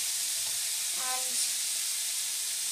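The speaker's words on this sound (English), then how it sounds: "let the onions sizzle till they're brown" Onions sizzle in a frying pan while a spaghetti and meatball sauce is prepared at home, giving a steady, close, bright hiss throughout with a brief voice over it.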